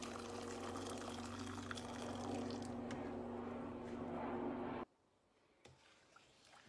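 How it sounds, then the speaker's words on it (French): Boiling water pours steadily into a saucepan over low heat while fruit juice is being made. The liquid rush is close and even, then cuts off sharply near the end, leaving near silence. "and then add some boiling water"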